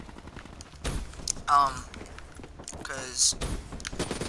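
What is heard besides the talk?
Heat Wave gun firing in a video game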